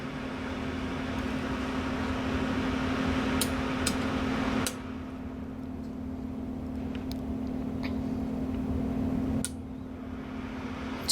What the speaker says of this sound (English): when you engage the remote, it's going to turn the fan on